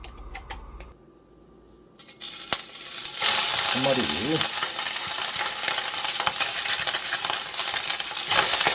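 After a brief quiet, oil bursts into a loud, steady sizzle and crackle as hairtail fish fries, continuing close up, with no talking.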